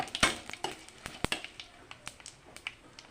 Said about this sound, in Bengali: এই তেলে দিয়ে দেবো শুকনো লঙ্কা তেজপাতা তারপর দিয়ে দেবো পাঁচফোড়ন পাঁচফোড়ন দিয়ে নাড়াচাড়া করবো